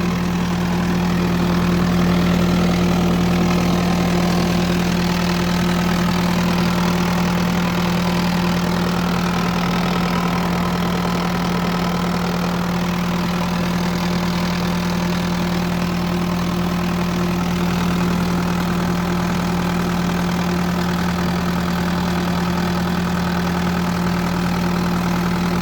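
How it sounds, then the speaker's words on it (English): A Kubota diesel engine idles steadily in a 2013 Bobcat T650 skid steer, a loud, constant low rumble with an even hum that never changes, heard up close with no talking. "This is that Kubota diesel."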